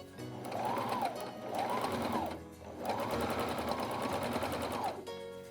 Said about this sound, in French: faire à la machine à coudre